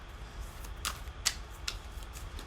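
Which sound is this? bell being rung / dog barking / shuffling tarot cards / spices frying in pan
shuffling tarot cards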